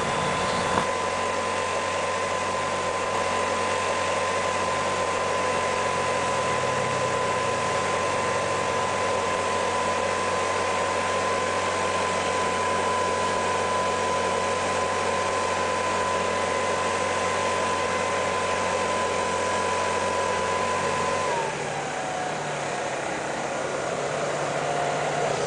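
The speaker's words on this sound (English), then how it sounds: "if you got a blower, you can create your own doggone wind" A blower runs steadily with a broad, loud rushing roar and a faint whine, holding constant for about twenty seconds before the tone drops slightly near the end as it keeps going.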